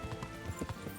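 A horse's hooves clip-clop quickly across a town street in the medieval game Kingdom Come: Deliverance, several close, rhythmic strikes in a brief burst.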